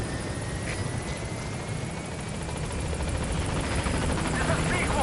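The Pequod helicopter in Metal Gear Solid V arrives at the landing zone, a steady, loud rotor roar filling the scene with a broad, continuous wash and no clear gaps.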